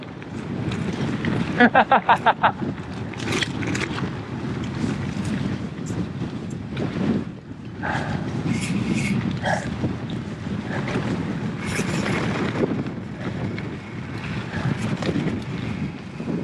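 Strong wind buffets the microphone on an exposed Yorkshire Dales hillside under low cloud during an off-road bike descent, a loud continuous rumble with gusts, a few short rattles and faint voice fragments.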